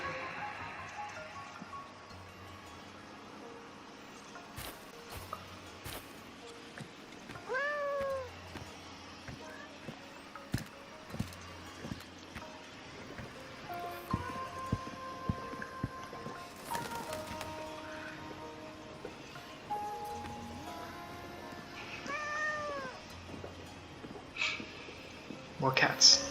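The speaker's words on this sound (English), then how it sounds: "The cat." Cats meowing in the Wuthering Waves video game, several short rising meows scattered across a long stretch, under game music, footsteps and a player talking.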